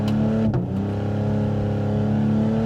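Cadillac CT5-V, a 360-horsepower all-wheel-drive sedan, accelerating hard with a loud, rising engine note, a quick dip as it snaps through an upshift, then the revs build strongly again.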